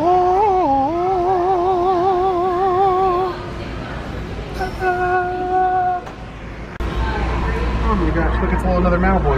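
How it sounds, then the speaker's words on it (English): A cat meows in long, wavering, drawn-out calls close by, several in a row over the first few seconds, then shorter repeated mews later, with steady background noise and a person talking throughout. "Oh, kitty cat."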